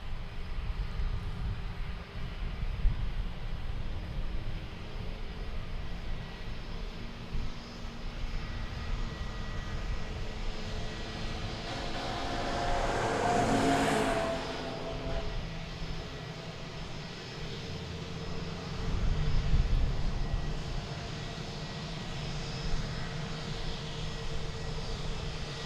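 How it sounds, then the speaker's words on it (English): A Viva Aerobus Airbus A321neo jet arriving at DFW Airport sweeps past with a rising, then fading engine roar that peaks midway, over steady outdoor rumble and wind. "Viva Aerobus Flight 684 coming in from Monterey. This will be an Airbus A321neo."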